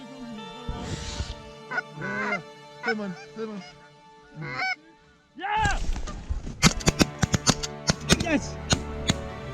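A flock of geese honks as it approaches hunters in Sweden. Loud, nasal calls come in separate bursts, then turn into a dense, overlapping chorus broken by several sharp, cracking bangs.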